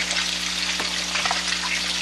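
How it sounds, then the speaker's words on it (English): Onions with garlic powder, black pepper, garlic salt and onion powder simmer in a pan, giving a steady, close sizzle and crackle that runs unbroken, with a few brief pops and stirring clinks. "This is simmering."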